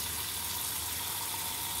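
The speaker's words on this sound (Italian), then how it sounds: "Aggiungiamo l'acqua." Water pours into a pot holding meat for a broth, a continuous close rushing splash that stays steady and fairly loud for the whole short stretch.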